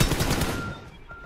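A short, loud burst of rapid automatic gunfire in a mobile battle royale video game fades out after under a second, leaving a faint ringing tail.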